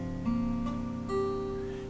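Barre chord strummed on a guitar: a single ringing chord whose notes sustain and slowly fade, with a light second pluck partway through, alone and fairly quiet.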